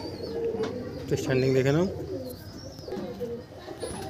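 Pigeons coo from a loft in a burst of rolling, throaty calls, with someone talking before and after.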